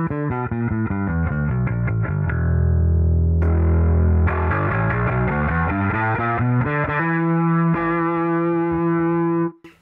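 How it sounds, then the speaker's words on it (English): Fender P-Bass with a Relentless P pickup played through an analog effects pedalboard into an EBS amp, giving a run of distorted, effects-laden bass notes followed by sustained chords, loud and steady before cutting off at the end. "In this video, I'm running my Fender Parts P-Bass with the Relentless P pickup."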